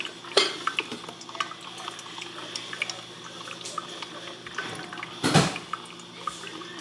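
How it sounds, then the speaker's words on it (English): Coffee being made in a home kitchen: soft clinks of cups and cutlery, light stirring and liquid sounds, with a couple of sharper knocks against a quiet background hum. "I'm making coffee right now because you know we need coffee"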